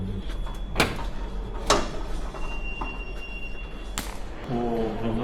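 A door at a children's clinic shutting and locking: several sharp clunks and latch clicks spaced over a few seconds against room hum, followed by a brief voice at the end.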